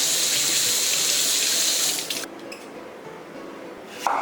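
Green pepper and pork rinsed under a running kitchen tap, a steady loud gush of water that drops to a softer trickle partway through, with brief splashes near the end.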